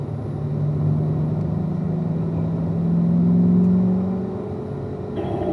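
A car on the Spring Mountain race track rumbles steadily from inside the cabin, engine tone rising and falling as it shifts down, with a continuous close drone and no other sounds.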